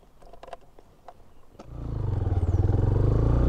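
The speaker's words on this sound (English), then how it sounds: "Can this bike do a burnout?" A Benelli BN125 motorcycle attempts a burnout: a few clatters and knocks, then the small engine revs up into a loud, sustained pulsing drone close by.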